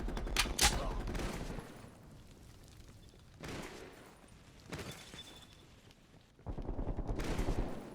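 Bursts of rapid gunfire from a favourite weapon in a console shooter game crackle in several short volleys, fairly faint, with quiet gaps between them.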